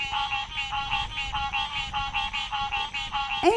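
A frog croaks in a fast, rhythmic run of raspy pulses that repeat evenly for several seconds, fairly close and clear with no voices over it.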